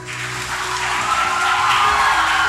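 An audience claps steadily and evenly in a hall for top-ranked NEET exam students called up on stage. The applause is broad, continuous and fairly loud, with a faint tone underneath, and no clear talking is heard.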